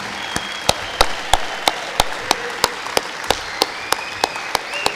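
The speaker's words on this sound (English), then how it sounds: "let's give a big round of applause for everybody here that was inducted tonight." Audience at a hall of fame induction ceremony clapping for the inductees, a sharp, evenly spaced series of claps over a soft crowd murmur, close and fairly loud.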